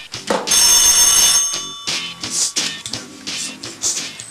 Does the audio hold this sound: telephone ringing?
yes